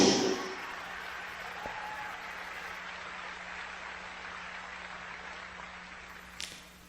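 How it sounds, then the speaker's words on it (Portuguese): An audience applauds during a church sermon: a steady, moderately quiet wash of clapping that carries on evenly and thins slightly toward the end. "Eu não sei porque vocês estão aplaudindo"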